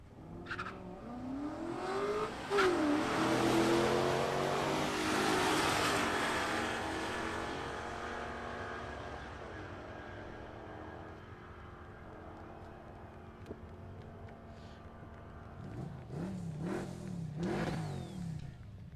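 Outlaw nitro funny cars at Palmyra Dragway, loud engines revving and accelerating hard down the strip, with a roar that swells early and then fades into the distance, followed by another burst of revving near the end.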